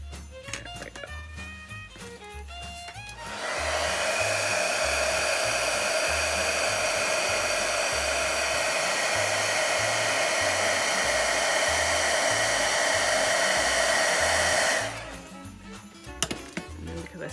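A heat gun blows a steady, loud whooshing hiss for about eleven seconds while heat embossing a watercolour tree card, starting and stopping abruptly with quiet handling sounds before and after.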